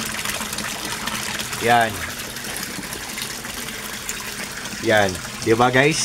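Strong water flow from an Aquaspeed submersible pump in a koi pond filtration setup, a steady rushing wash throughout, with someone talking briefly over it.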